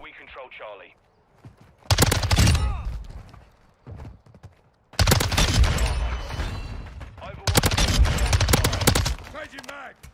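MX9 submachine gun in Modern Warfare 2 firing in long rapid bursts, loud and close, separated by short pauses with a voice talking in between.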